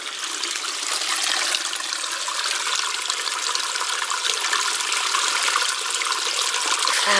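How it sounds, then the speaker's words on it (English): A small stream trickles and rushes steadily past cottages in a wooded valley, a constant close wash of flowing water with no voices. "The stream continues,"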